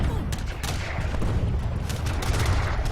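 Heavy cannons and arquebusier volleys firing in an Age of Empires III match: a dense barrage of overlapping booms and gunshot cracks, several sharp reports rising above a continuous rumble.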